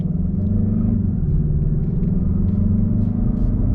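A Mazda3 2.5 Turbo hatchback rumbles at a highway intersection, its engine giving a loud, steady low drone from inside the cabin with slight shifts in pitch as it pulls away.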